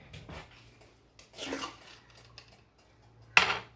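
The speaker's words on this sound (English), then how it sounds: "let me get a knife so I can get this out of the jar" A knife scrapes and clinks inside a large jar of tomato paste in a home kitchen while gluten-free sloppy joes are being made: a few brief, scattered scrapes and a sharp clink near the end, close and quiet.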